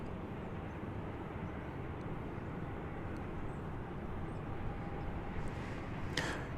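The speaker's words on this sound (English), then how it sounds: "This is the Flight 123 going to Honolulu." A Boeing 787 Dreamliner airliner taking off at DFW Airport, a steady broad engine roar heard from a distance, even and sustained throughout with no voices.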